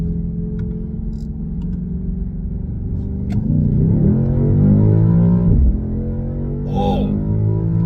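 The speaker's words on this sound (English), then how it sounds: "So we're just going to kick it up to highway speed" A 2023 BMW XM pulls up to highway speed, its engine droning steadily and then swelling into a louder rising rev around the middle before easing off, with a brief tonal sweep near the end and no one talking.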